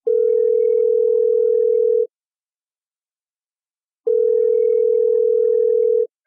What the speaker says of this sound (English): Badoo, it's ringing.